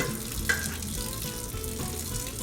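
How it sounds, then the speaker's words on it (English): Tap water pours over boiled potatoes in a pot or colander in a home kitchen, a steady close rushing splash with a few clinks, no talking. "I am going to run a little bit of water over the potatoes just to cool them off a little bit"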